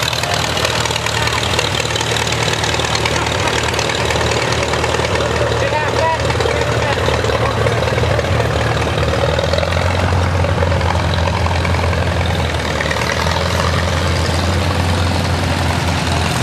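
Old, largely original tractors idle with a steady, low chugging engine rumble, continuous throughout, set against a busy outdoor background.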